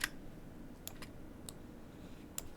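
A computer mouse clicks while points are dragged in 3D software: about five quiet, sharp clicks spaced irregularly over a soft background hiss.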